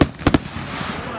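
Fireworks at a high school graduation give a few sharp bangs close together within the first half second, then a faint crackling tail fades out.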